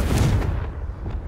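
The Confringo fire spell from Hogwarts Legacy goes off in a single heavy, booming blast that rumbles and fades over about a second, loud and close, with no speech.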